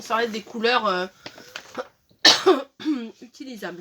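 A woman lets out a single short cough in the middle of her talking, close to the microphone and about as loud as her voice.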